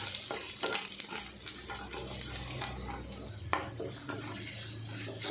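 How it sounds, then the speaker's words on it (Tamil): Chopped garlic frying in a pan, a continuous soft sizzle with intermittent spatula scrapes and light taps on the pan, fairly faint and close. "அதில் சேர்த்து பூண்டை லைட்டாக வதக்கி விட்டுக்குவோம்."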